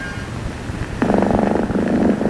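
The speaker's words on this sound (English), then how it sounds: "There's a sound a cat makes when she's really happy and healthy." A steady, rhythmic purr starts suddenly and continues close and fairly loud, with a soft background hum before it.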